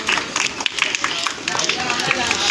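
Crowd clapping at an outdoor street magic show, dense scattered claps mixed with voices and crowd noise, fairly loud and close throughout.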